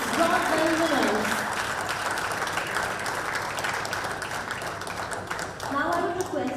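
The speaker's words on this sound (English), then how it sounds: "please put your hands together for a round of applause for the 10-meter air rifle mixed bronze medal winners" An audience at a shooting World Cup medal ceremony in Bhopal applauds the 10-meter air rifle mixed team bronze medal winners. The clapping is steady and sustained, and a voice speaks over the loudspeaker at the start and end.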